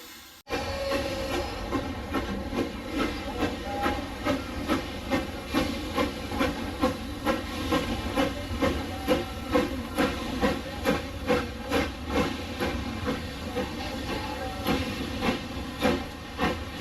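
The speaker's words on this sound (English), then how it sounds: "see the trains being shunted around the rail yards" Puffing Billy steam locomotive shunting in a rail yard gives a steady rhythmic chuffing with hissing steam, regular exhaust beats repeating for the whole stretch, fairly close and with no talk.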